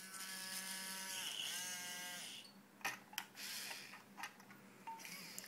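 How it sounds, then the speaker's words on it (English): A robot arm run from a wired controller moves with a thin electric motor whine that rises and falls in pitch, then stops and gives way to a few sharp mechanical clicks and knocks, close by and fairly quiet. "this machine, or this robot arm, right now is controlled by the wire controller"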